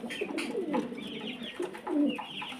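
A pair of pigeons at a farm give soft, rolling coos, close by and throaty, in short repeated bursts with no talking.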